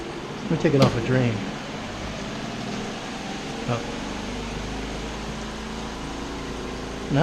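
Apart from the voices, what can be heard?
mini washing machine spin cycle draining water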